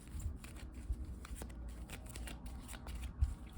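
Angel cards being shuffled for a card reading, a soft continuous papery riffle with a few sharper taps, faint and close, with no talking.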